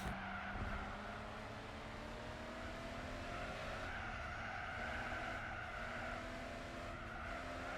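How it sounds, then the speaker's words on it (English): Race cars in Gran Turismo 4 spinning their wheels with steady tyre squeal and skidding over a continuous engine drone, loud and close with no talking. "More wheel spin all over the place."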